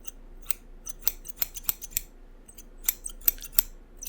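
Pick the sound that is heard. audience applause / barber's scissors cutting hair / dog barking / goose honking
barber's scissors cutting hair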